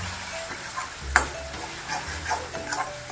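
Kashmiri red chili, coriander, cumin powder and turmeric roast in oil for chole, a soft continuous sizzle broken by several clinking, scraping stirs of a spoon in the pan, close up with no voices.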